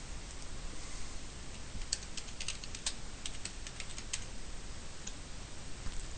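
Light, quiet keystrokes on a computer keyboard as a caption is typed, a scattered run of soft taps over steady low background hiss.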